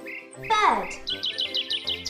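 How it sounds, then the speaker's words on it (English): Bird song from a pet bird: a bright rising-falling call followed by a quick series of repeated high chirps, close and clear against a quiet background. "I absolutely love listening to bird song."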